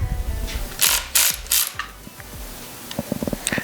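A ratchet wrench works loose a cam holder bolt on a Ford 5.4 2V engine during a timing chain replacement, with a few heavy strained cranks followed by a quick run of light clicking, close up.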